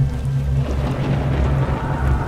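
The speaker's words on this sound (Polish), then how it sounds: "W oddali słyszymy grzmoty, błyskawice, ulewny deszcz." Heavy rain and distant thunder in the game Return to Castle Wolfenstein, a steady loud wash of downpour over a low rumbling drone that continues without pause.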